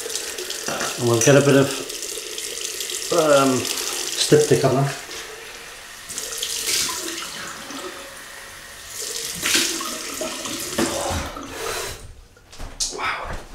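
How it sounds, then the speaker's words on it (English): Cold water runs from a bathroom tap in steady gushes for a rinse during a shave with a Dovo Shavette and Derby Professional blade, starting and stopping several times, close and fairly loud, with someone talking between bursts. "Cold water rinse."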